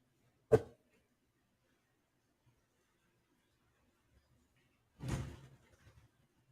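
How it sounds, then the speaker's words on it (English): A door makes a sharp single knock or latch clack, then after a pause a longer rattling thud with a brief scraping tail as it swings open, close and otherwise quiet. "let me open the door now"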